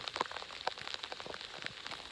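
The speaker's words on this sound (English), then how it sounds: "It's starting to pour and it's calling for 30 mils today." Pouring rain patters steadily on surfaces outdoors during a rainy morning on a moose hunt, a dense, even hiss of drops, faint and without voices.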